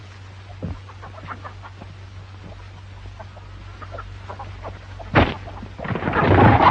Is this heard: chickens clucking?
yes